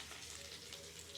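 Curry leaves and garlic frying in a hot pan while cooking a Mongolian sizzler, giving a steady, continuous soft sizzling hiss with fine crackle throughout, fairly quiet and close, with no voices.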